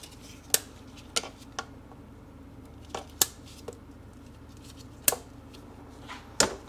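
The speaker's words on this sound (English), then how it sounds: "Now let's cut the oil lines." Oil lines on a Seadoo 951 DI engine are cut with sharp, quiet snips, about seven crisp clicks spaced irregularly over a low background hum.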